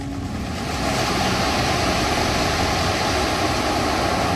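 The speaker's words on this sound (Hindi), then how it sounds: "समुद्र की लहरों की आवाजें" Sea waves breaking on the shore beside Puri Jagannath temple, a steady loud roar of surf with continuous wash and wind-like hiss, rising slightly after the first second and staying constant.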